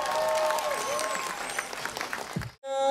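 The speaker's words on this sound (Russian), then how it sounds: "Поприветствуем их аплодисментами." Audience applause fills a hall, a dense steady clapping under some background tones, heard briefly before cutting off abruptly.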